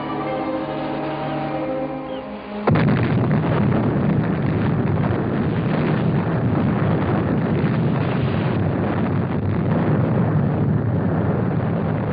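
An underwater explosion on a sabotaged submarine: a sudden deep boom erupts after a few seconds of low rumbling, followed by a sustained, roaring wash of noise that lingers without fading.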